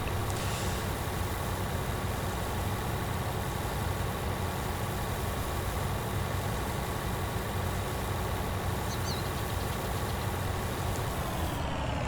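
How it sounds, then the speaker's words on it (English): A combine harvester in Farming Simulator 2019 unloading harvested canola into a trailer, a steady droning engine and machinery hum holding level throughout with no talk. "We fill up the trailer with the canola we have just harvested."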